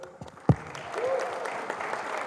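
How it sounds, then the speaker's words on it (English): Applause from an audience at a seminar, with a sharp thump early and then a soft, steady patter of clapping behind faint talk. "Can everyone give him a round of applause?"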